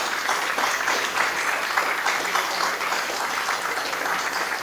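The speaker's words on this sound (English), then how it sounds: "I want to give you a big round of applause" Steady round of audience applause at a Medal of Honor event for James Allen Lynch, a dense wash of clapping from a large crowd, continuous and even throughout.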